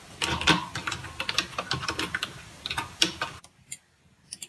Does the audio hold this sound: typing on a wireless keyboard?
yes